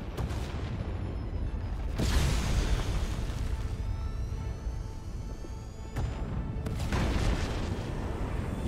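Explosions in the video game Star Wars: The Old Republic, with loud, dense rumbling bursts that hit near 2 s and again near 6 s over a constant roaring background, heard alone without talk.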